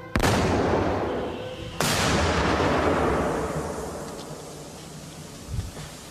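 A weapon fires at an armored car during a test. Two heavy blasts go off, one at once and a second a couple of seconds later, each leaving a long, rumbling decay that fades out.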